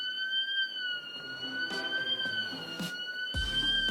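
A continuous electronic alarm wails steadily outside factories, with a few brief clanks and a low rumble joining near the end.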